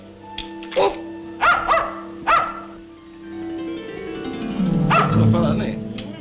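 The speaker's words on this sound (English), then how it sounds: "Oh, look, T stands for toy dog, too. Woof. Woof." A small toy dog gives a few sharp yipping barks close by, spaced apart, followed by a whimpering whine while people talk.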